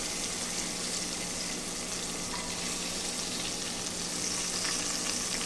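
Cube steaks sizzle and fry in a pan with a dense, steady crackling hiss that holds loud and even throughout, with no talking.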